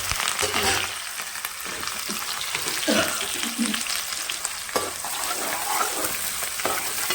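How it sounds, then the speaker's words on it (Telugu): Garlic with dried and green chillies fries in hot oil, a bright continuous sizzle with a few spatula scrapes and clinks against the pan. "ఆయిల్ కాగింది. ముందుగా ఏం చేద్దామంటే ఎల్లిపాయ వేద్దామండి. నెక్స్ట్ ఎండుమిరపకాయలు, థర్డ్ వచ్చేసి పచ్చిమిరపకాయలు"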